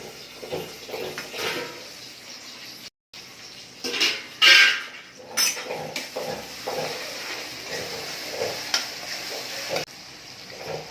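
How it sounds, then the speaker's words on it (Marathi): Tomatoes and onions sautéing in oil in a pan for a brinjal and potato sabji: continuous frying sizzle with repeated spatula scrapes and clanks against the pan, close and with no talk. "टोमॅटो थोडंसं विरगळून दिलं पाहिजे तेलामध्ये"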